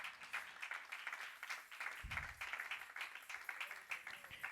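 A church congregation claps during a Spanish-language sermon, a dense, steady patter of many hands that keeps going throughout, moderately distant, with a brief low thump partway through.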